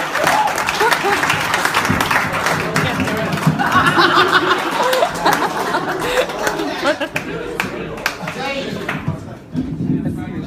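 An audience at a comedy club claps and applauds loudly, with chatter and laughter mixed in. The clapping tapers off near the end while voices carry on.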